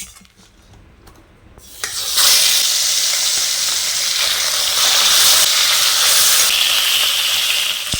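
Pona fish frying in hot oil, a loud, steady hiss that swells up suddenly after a short quiet start and carries on close and unbroken, no talking.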